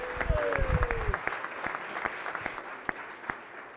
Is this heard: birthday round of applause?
yes